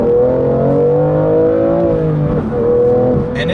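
A manual BMW M2 accelerating hard in second gear: a loud, close engine note climbing steadily in pitch, dipping briefly at a shift point and then pulling again.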